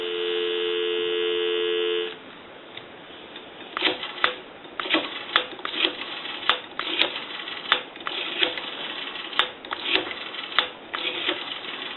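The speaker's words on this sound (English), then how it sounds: "I'll give you some dial tone." A steady dial tone from a repaired 236G three-slot payphone hums for about two seconds, then cuts off, followed by a series of clicks and taps.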